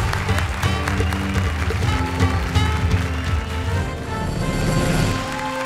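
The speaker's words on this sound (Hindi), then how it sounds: "जोरदार तालियां" Audience applause at a televised Indian stand-up comedy stage show, a dense, loud and continuous wash of clapping with some cheering mixed in, sustained throughout.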